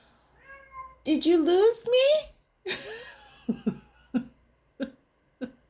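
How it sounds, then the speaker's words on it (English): A pet cat lets out several meows in quick succession, first a long wavering cry, then a run of short clipped calls, close and clear, with someone briefly speaking between them. "And that is my cat. He's losing his mind."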